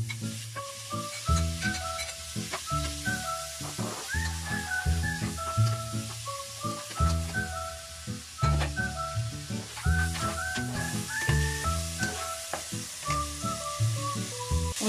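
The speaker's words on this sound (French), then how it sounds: "Je vais commencer par cuire le steak haché en premier." Ground beef fries in a hot pan for a minced-meat pie, with a steady loud sizzle broken by frequent clinks and scrapes of a utensil stirring the meat, heard close with no talking.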